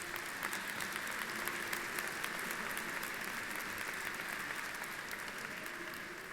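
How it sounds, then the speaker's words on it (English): An audience at a university presidential inauguration claps steadily and evenly, a dense, sustained wash of applause filling the room without letting up. "So give yourselves a round of applause."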